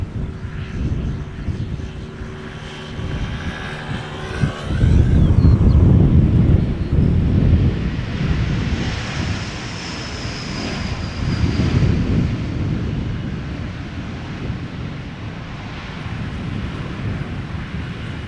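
A KLM airliner approaching to land at Schiphol airport roars overhead, a loud sustained jet rumble that swells midway and then eases, with wind buffeting the microphone throughout.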